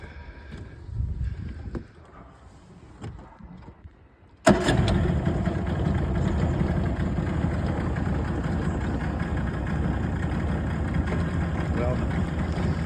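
Yamaha two-stroke outboard engine, its carburetor leaking oil, catches abruptly after a few quiet knocks and settles into a steady, loud, buzzing idle that runs evenly to the end.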